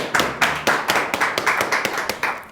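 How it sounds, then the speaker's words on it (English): Sharp, evenly spaced hand claps from a small group applauding students in a classroom, about a dozen distinct claps in a quick steady rhythm, close and crisp with no voices. "Let's give them a round of applause"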